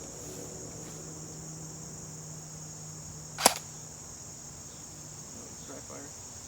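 A single sharp shot from a CYMA MK12 Mod1 airsoft rifle firing a BB at a small distant target, one crisp snap standing out over a steady chorus of crickets outdoors.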